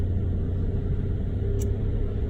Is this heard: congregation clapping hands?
no